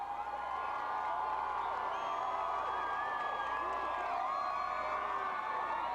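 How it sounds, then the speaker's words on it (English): A large crowd cheers steadily at the Toronto Blue Jays 1992 World Series parade, a dense, continuous roar of voices with whoops and shouts rising out of it, loud and unbroken throughout. "he's egging on the crowd as if they need to be urged to cheer"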